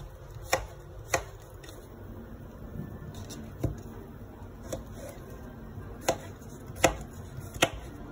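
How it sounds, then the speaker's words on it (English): Knife chopping calabaza squash on a cutting board, with about eight sharp, separate cuts spaced a second or so apart over a low kitchen hum. The cuts are close and distinct, and there is no talking. "I'm gonna go ahead and cut the calabaza so I can have them ready"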